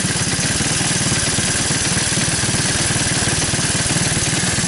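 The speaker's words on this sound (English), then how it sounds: "I got the idle up a little too high." A 1985 Honda ATC 200S three-wheeler engine runs at a steady, fast idle set slightly too high, a loud, even mechanical putter that continues without a break and with no talking.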